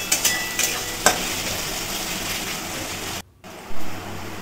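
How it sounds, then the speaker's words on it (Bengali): Onions fry in white oil in a pan, giving a loud, close, continuous sizzle with a few clatters of stirring near the start and a brief break before the hiss returns. "ঘুগনি বানানোর জন্য দিচ্ছি সাদা তেল, পেঁয়াজ ভেজে নেবো লাল লাল করে।"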